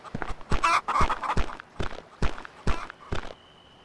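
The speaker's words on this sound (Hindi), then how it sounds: "रुक जा मुर्गी।" A chicken in the Last Pirate survival video game, heard as a series of about eight sharp, evenly spaced taps or steps with clucking texture, fairly loud and close, ending in a faint steady tone.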